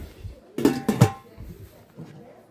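A few quick metallic clinks and clanks of a heavy metal pot and its lid close by, followed by quieter handling noise.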